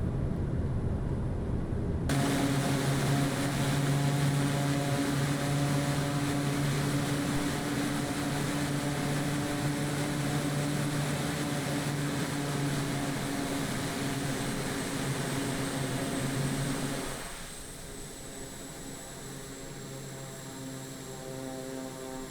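Simulated Pilatus PC-12 turboprop engine in the Simworks Studios flight simulator, a steady loud droning whine with tonal hum that drops noticeably in level near the end as power is pulled back, with no talking.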